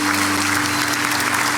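Steady, dense applause from a church congregation clapping in praise of Christ, an even wash of many hands with a low steady hum beneath it.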